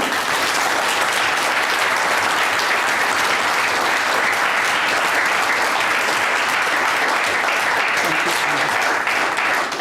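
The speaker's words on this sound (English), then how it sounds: "give me a big hands, round of applause for them" Audience at the Baker Institute International Symposium gives the panel a long, loud round of sustained applause that holds steady for about ten seconds, with faint voices mixed in near the end.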